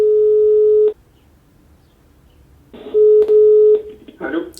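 Telephone tones while calling André, a steady electronic beep lasting nearly a second, silence, then further beeps and dial tones, clear and close, followed by a brief burst of voice.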